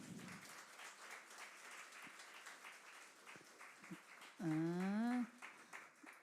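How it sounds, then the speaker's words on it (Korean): Applause from a small group at a church gathering fills the clip with a steady patter, and a brief loud sung or shouted note breaks through near the end. "자, 우리 박수 한번 해요."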